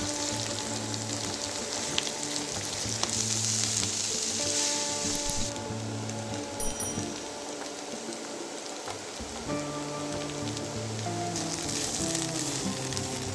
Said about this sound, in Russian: Когда лук размякнет, добавляем морковь. Смешиваем аккуратно.